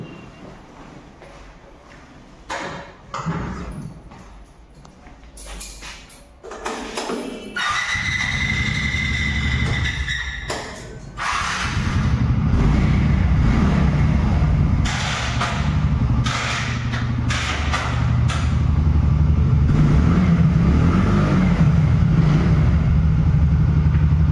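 A car pulling away to be washed on a hillside road: a few knocks and squeaks at first, then an engine starting up and running steadily louder, rising toward the end.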